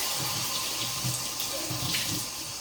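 Tap water runs into a kitchen sink as a pound-sized piece of raw salmon is rinsed beneath it, a soft, continuous splashing stream that stays close and even, with no talking.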